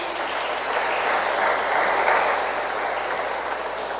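Church congregation applauding together, a steady wash of many hands clapping at an even level for a few seconds, no talking over it.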